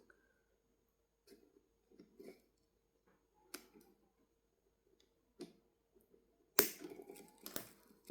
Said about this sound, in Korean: 이 모서리 부분도 똑같이 이래도 되나 싶을 정도로 과하게 많이 잘라주세요